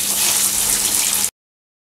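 A burger patty fries in hot oil over a lowered flame, giving a steady, close sizzling hiss that runs for about a second and then stops abruptly.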